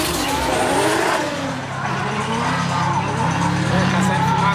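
Someone's car drifting with smoke pouring from one side, a steady roar of engine and tire scrub filling the whole stretch, with voices talking over it.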